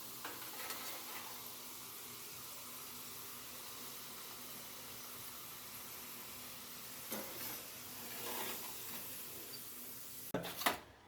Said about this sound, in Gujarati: આપણા બટાકા પણ હવે એંસી ટકા જેટલા તળાઈ ગયા છે